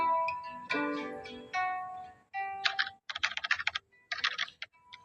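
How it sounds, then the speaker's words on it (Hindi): Typewriter keys clatter in quick bursts of clicks, close and distinct, following a few ringing tonal sounds at the start. "टाइपराइटर के बटन दबने की आवाज सुनाई दे रही थी।"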